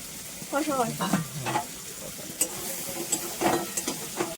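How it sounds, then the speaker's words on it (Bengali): Poppy seed, almond and green chili paste being stirred in a pan, with soft intermittent scraping and stirring strokes over a low sizzle, a few sharper clinks of the utensil against the pan. "এটা দিয়ে নেড়ে চেড়ে ফোটাবো"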